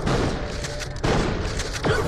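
Gunfire and heavy weapon blasts in Borderlands Pre-Sequel during the Red Belly boss fight on Xbox 360, a loud, dense barrage of booming shots and thuds with little pause between them.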